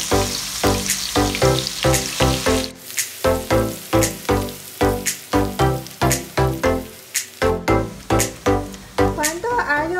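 Garlic fries in hot oil for Thai pork and rice with a crackling sizzle that comes in repeated rhythmic bursts, close and fairly loud, while a voice talks over it.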